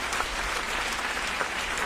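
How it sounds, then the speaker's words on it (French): Congregation applause during a church sermon, steady dense clapping at moderate loudness throughout the short moment. "Bah, t'as ton applaudissement pour ça."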